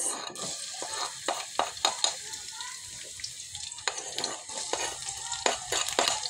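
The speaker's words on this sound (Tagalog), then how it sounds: "Igisa na natin yung bawang sibuyas guys." Garlic and onion sauté in hot cooking oil with a steady close sizzle, punctuated by quick scraping clicks as a spatula stirs them around the pan.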